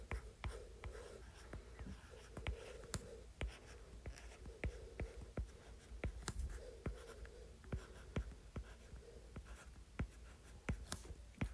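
Writing strokes as a rule is jotted down during a math lesson on substitution of variables: close, steady scratching with frequent sharp taps and ticks, no voices over it.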